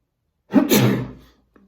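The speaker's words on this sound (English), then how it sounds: "I'm gonna sneeze" One close, abrupt sneeze bursts out after a moment of quiet, then fades into a brief breath.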